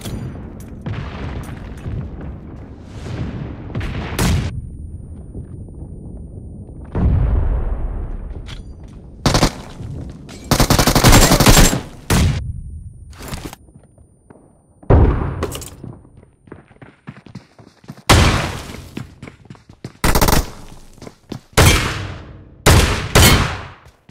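Shotgun fire in PUBG Mobile on the Livik map, loud booming blasts coming in irregular bursts and single shots with short quiet gaps between them.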